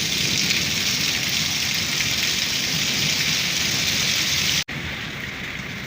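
Heavy storm rain in a village, with strong wind, pours down in a dense, steady roar that stays loud and close throughout, broken only by a brief dropout near the end.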